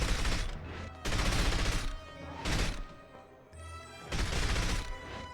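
Gunfire in James Bond 007: From Russia with Love, loud bursts of rapid shots in about four separate volleys with short pauses between them, and no talking.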